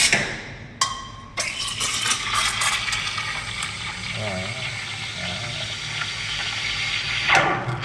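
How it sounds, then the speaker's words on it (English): An espresso machine's steam wand is purged with a loud, steady hiss that bursts on abruptly and keeps roaring throughout, close to the listener. "Always purge the steam wand as well."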